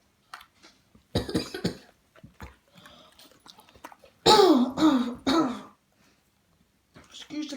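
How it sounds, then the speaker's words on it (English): A man coughs and clears his throat in several rough, loud bursts outdoors, with quieter rustling and breathing between them. "Excuse the cough, shake the cough."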